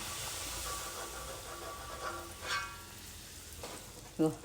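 Puri frying in hot oil, a steady hiss and sizzle of bubbling oil with a few faint clinks, and a voice talking under it.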